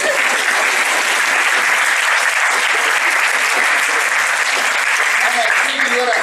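Loud, sustained applause from a large crowd fills the whole stretch, dense and steady without pause.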